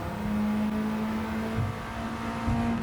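A race car engine in the Gran Turismo video game holds a steady high-pitched drone near redline, loud and continuous with no talk.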